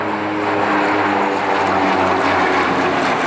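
Propeller engines of Il-76 and An-26 military transport aircraft during a paratroop and equipment airdrop exercise, a loud, steady droning roar with a humming low tone, continuous and close throughout, with no voices.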